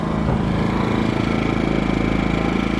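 An Atima AY2000i inverter generator engine runs steadily close by, with its muffler aimed toward the listener, giving a continuous even low hum and drone throughout with no talk.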